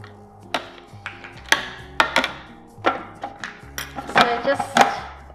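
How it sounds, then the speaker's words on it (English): A knife chopping uncrystallized ginger on a board, about a dozen sharp close knocks in an uneven rhythm that quickens near the end, with no talk. "So just chop it up a bit."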